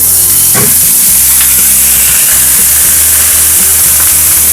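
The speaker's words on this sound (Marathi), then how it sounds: "तवा तापत ठेवलंय पाण्याचा एक धपका मारायचा आहे" Water splashed onto a hot tawa griddle bursts into a loud, steady sizzle that hisses on without pause, with a faint low hum underneath.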